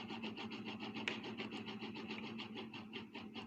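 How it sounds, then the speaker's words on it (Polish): A small motor in an OMRON photoemitter control test rig runs briefly in steps, giving a close, buzzy, rapidly pulsing whir that holds steady for a few seconds. "silnik w tej chwili krótko pracuje na trzech krokach"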